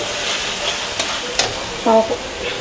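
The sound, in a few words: ground spice paste added to hot pan, frying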